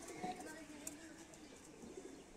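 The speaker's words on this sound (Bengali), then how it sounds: "এগুলা মেবি উড়ার কবুতর" Domestic flying pigeons coo softly from cages at a home, faint and fairly distant, with people talking nearby.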